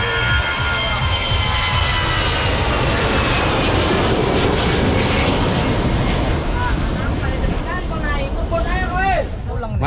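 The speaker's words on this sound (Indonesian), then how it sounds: "pesawat terbang" Loud, roaring jet engine of an airplane powering up for takeoff on the runway at Kualanamu Airport, close and continuous, with a whining pitch sweeping upward near the end.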